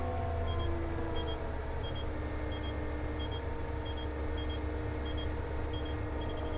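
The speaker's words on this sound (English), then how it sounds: "The autopilot gives us an end of row approaching warning" Trimble FmX autopilot end-of-row approaching warning: a short, regular series of about a dozen high electronic beeps over a steady tractor cab engine rumble.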